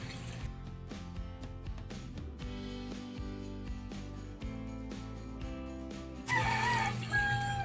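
A rooster crows loudly over a dense bed of music, its drawn-out call rising near the end of the clip.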